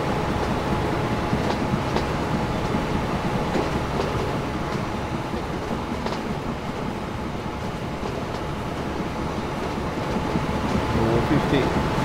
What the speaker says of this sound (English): The train is still accelerating.